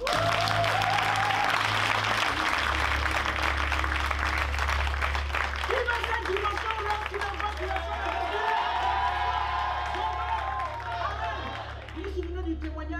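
Church congregation applauding and cheering at a worship service, a loud, continuous wash of clapping and crowd noise over a steady low hum, with voices calling out throughout.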